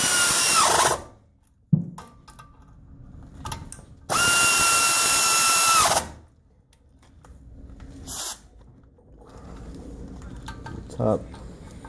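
A power tool, likely an impact driver or drill, tightens brake caliper bolts on a 2007–2012 Mazda 6, with two loud sustained whirring bursts, the first about a second long and the second about two seconds, followed by quieter clicks and handling noise.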